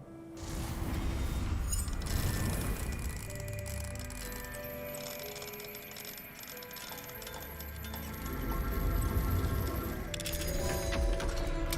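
A lock mechanism clicks and grinds open after an Alohomora spell in a Hogwarts video game, with ratcheting metallic turning and faint creaks over a steady game ambience.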